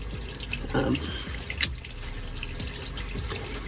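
Water gushing into a boat hull through a cut shaft seal during a Tides Marine dripless seal replacement, a continuous splashing flow with a brief louder surge and a sharp clank partway through.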